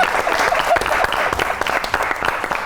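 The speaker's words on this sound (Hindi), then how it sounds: "अब देखें कितनी ताली बजी" Studio audience at a Pakistani comedy talk show claps loudly and continuously, a close, full burst of many hands with individual sharp claps standing out.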